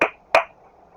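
Children in a classroom clap twice on a teacher's command, two sharp, close claps about a third of a second apart, then quiet.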